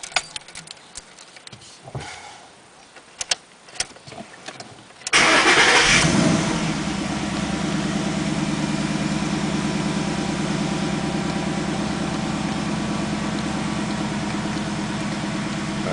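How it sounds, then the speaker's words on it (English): A 2011-or-later Ford Mustang GT cranks briefly and fires up after a few soft clicks and handling sounds, then settles into a loud, steady, rumbling idle that holds for the rest of the stretch. "Now the engine is ready for startup."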